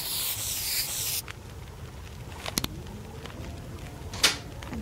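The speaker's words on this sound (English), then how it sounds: "Spray this so we know this is our fire draw." A spray can in The Long Dark releases a bright hissing burst for about a second, loud and near, followed by quiet rustling and a couple of faint clicks.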